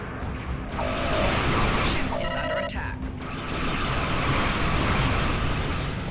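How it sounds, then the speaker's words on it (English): Enhanced biomolecular photon torpedoes fire from a ship in the Star Trek Online space game, loud booming blasts and rumbling explosions with electronic tones pulsing between them, dense and continuous, with a voice talking over it. "Use the enhanced biomolecular photon torpedo equipped on your ship to destroy the targets."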